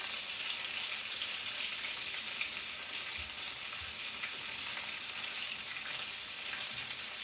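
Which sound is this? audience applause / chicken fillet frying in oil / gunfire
chicken fillet frying in oil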